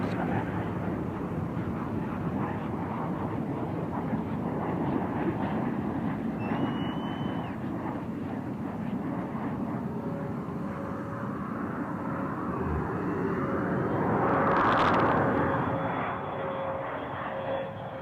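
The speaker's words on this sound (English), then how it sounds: "Discovery rolling out on runway 22 at Edwards Air Force Base, California" A steady broadband roar rises slightly near the end as Space Shuttle Discovery rolls out on runway 22 at Edwards Air Force Base, California, after landing, heard continuously with no voices.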